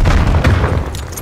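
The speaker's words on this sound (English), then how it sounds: "Throwing grenade." A grenade goes off in the video game Call of Duty Black Ops Cold War, giving a loud, close, heavy boom with a short rumbling tail.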